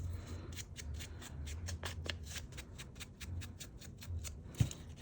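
Scissors trimming the edge of a paper pocket in a mixed media craft project, a close, rapid series of crisp snipping cuts in quick rhythm with one louder tap near the end and no talking.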